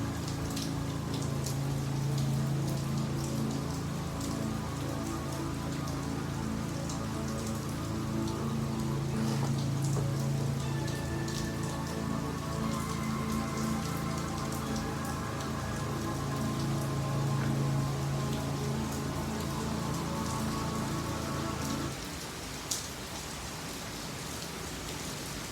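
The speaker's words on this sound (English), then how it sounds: "We are in a rain delay." Steady rain falls and patters on surfaces during a rain delay at a 1969 Montreal at Philadelphia baseball game, a continuous dense hiss that runs unbroken with no talking.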